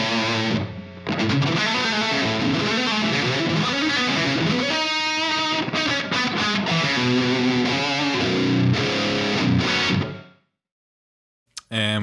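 Overdriven electric guitar plays chords and single-note lines through a tile room reverb on a Two Notes Torpedo Captor X 16-ohm, steady and loud before cutting off into brief silence and a faint click.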